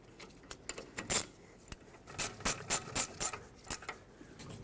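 A ratchet tightens the rear brake caliper bolts on a 2012-2014 Ford F-150: a single burst of clicking, then a run of six or so evenly spaced ratcheting strokes, close and crisp, with no talking.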